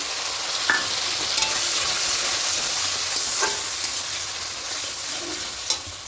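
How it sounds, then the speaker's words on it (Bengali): Sour yogurt and water poured into a pan of spice masala fried in oil, giving a steady loud sizzle with stirring scrapes and a few sharp clicks, close and continuous with no talk. "এবার এখানে টক দইয়ের বাটি দিয়ে জলটা দিয়ে দেবো।"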